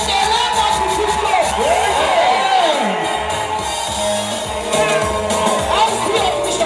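A large crowd cheers and shouts at a celebration commemorating a king's arrest, loud and sustained whoops and yells, with children's voices and a speaking voice mixed in.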